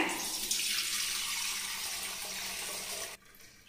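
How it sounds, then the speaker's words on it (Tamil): Water pours steadily into a pot for sweet Pongal in a continuous splashing stream for about three seconds, then cuts off abruptly, leaving a quiet tail. "சர்க்கரை பொங்கலுக்கு இந்த தண்ணி ஊற்றுறேங்க"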